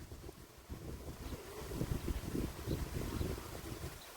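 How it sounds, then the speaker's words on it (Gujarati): Wind blows outdoors in a village, buffeting the microphone with low, rumbling gusts that rise and fall steadily throughout. "હવા આવે ને હવા"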